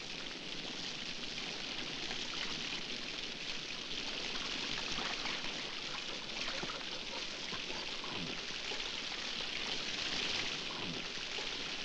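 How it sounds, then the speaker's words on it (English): Heavy rain pours steadily, a dense continuous hiss of falling water that stays loud and unbroken with no voices over it. "The dogs can't smell a damn thing with all this rain."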